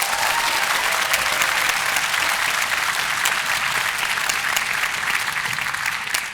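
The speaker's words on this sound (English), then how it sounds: "Can we give them a round of applause, please?" Audience applause at a high school fall band concert, dense steady clapping from a large crowd that holds at full strength throughout.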